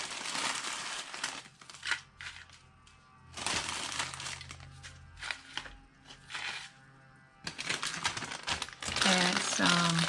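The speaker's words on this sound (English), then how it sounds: "put some shredded paper on the inside." Shredded paper crinkling and rustling as it is stuffed into a Valentine's paper-craft treat box, close bursts of crackly handling separated by pauses, with a person talking in between.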